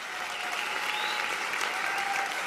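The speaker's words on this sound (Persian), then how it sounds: "یه دست خیلی خوشگل همه سرورانم" Steady, loud audience applause with dense clapping throughout, a crowd cheering a singer at a Persian vocal performance in Kish, with faint voices mixed in.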